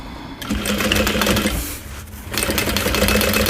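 A sewing machine stitches a bowler bag close to its metal hardware, running in a steady, fast, loud mechanical drone with a short pause in the middle before starting up again.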